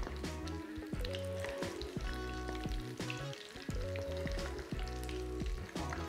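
Sri Lankan fish cutlets fry in hot oil, a dense, continuous close-up sizzle with crackles and pops and no talking.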